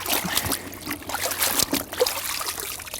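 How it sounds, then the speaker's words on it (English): Freshly harvested celery stalks get a quick rinse with water: a close, steady trickling and splashing that runs through the whole moment with small surges, and no voices. "So I'll give that a little rinse"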